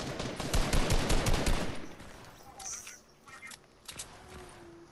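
Rapid gunfire bursts in a Fortnite squads match, dense and loud at first, then thinning into scattered sporadic shots with scuffing and movement noises.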